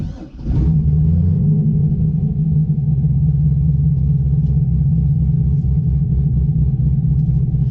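A Corvette fitted with a Mild to Wild exhaust system idles steadily with a deep, continuous rumble. One brief rev opens the clip, then a low drone holds close and loud throughout.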